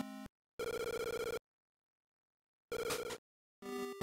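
Chiptune telephone ringing from a phone booth in Link's Awakening DX, sounding as several short bursts of trilling electronic bell tones separated by silent gaps, clear and fairly quiet with no talk.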